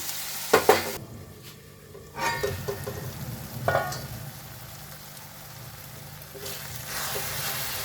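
Onions and tomatoes sautéing in a pan for a soybean bhurji, with a soft, steady sizzle, occasional stirring clatter and scraping near the start, and a quieter stretch in the middle.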